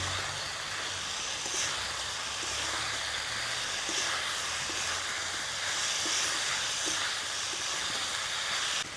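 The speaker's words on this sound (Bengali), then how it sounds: "আলু ফুলকপি দিয়ে আর একটুক্ষণ কষিয়ে নেব।" Boiled potato and cauliflower sautéing in fried spices for a village-style Bengali dish, giving a steady, soft sizzling hiss that holds evenly throughout with no talking.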